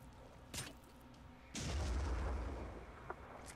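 A grenade in the turn-based strategy game Phoenix Point goes off with a sudden heavy boom, and a deep rumbling blast decays over about two seconds after a short sharp crack.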